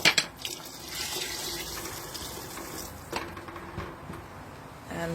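Vegetable stock being poured into a soup pot for Swedish pea soup: a short gushing splash at the start, then a steady close trickle of liquid with a second surge partway through, moderately quiet, no talking.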